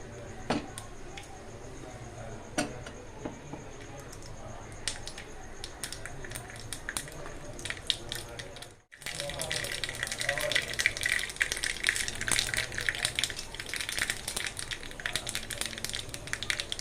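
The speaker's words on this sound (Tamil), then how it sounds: "கடுகு நல்லா பொரியட்டும்" Mustard seeds crackle and splutter in hot oil for a South Indian tempering, a dense, steady sizzle that swells sharply halfway through and stays loud and close to the end.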